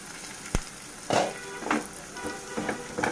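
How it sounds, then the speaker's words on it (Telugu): Onions fry in a covered pan until golden brown, with a soft sizzle, one sharp tap and then several swelling bursts of crackle, heard close and without speech. "మూత పెట్టుకొని గోల్డెన్ బ్రౌన్ వచ్చేంత వరకు ఆనియన్స్ని వేయించుకుందాం"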